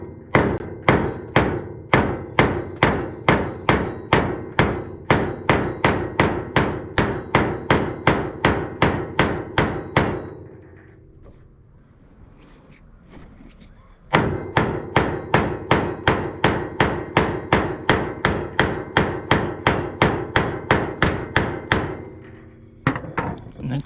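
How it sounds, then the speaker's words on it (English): A ball-peen hammer bashes the metal tip of a chainsaw bar during a tip replacement. The sharp, ringing blows land loud and close in a fast, even rhythm, stop for a few seconds, then resume at the same pace. "give it a bit of a bash with a ballpoint hammer"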